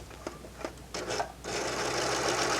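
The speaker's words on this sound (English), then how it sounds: "I'm going to stitch past this to get rid of some of that yellow thread." A Baby Lock serger whirs in a few short stuttering bursts, then settles into a loud, continuous stitching run up close.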